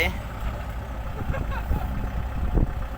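A farm tractor engine idles with a low, steady rumble, while someone talks over it throughout.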